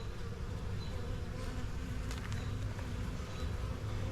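Honey bees buzz around resource hives in a dense, continuous hum, with individual bees occasionally flying close past, steady and moderately loud throughout.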